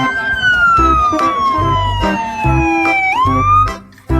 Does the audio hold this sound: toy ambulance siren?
yes